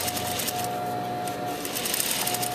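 A sewing machine runs steadily, stitching a sleeve cap seam with a dense, continuous whirring hum and rapid needle chatter, loud and close with no talk.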